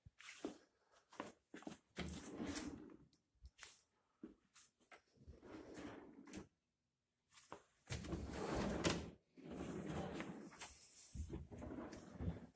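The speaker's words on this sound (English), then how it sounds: "Pull out drawers, that's nice." Several wooden pull-out drawers slide and thump open and shut in a quiet room of a house, with short knocks and scrapes between gaps of silence.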